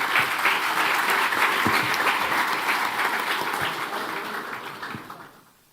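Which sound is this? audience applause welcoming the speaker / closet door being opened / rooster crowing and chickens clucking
audience applause welcoming the speaker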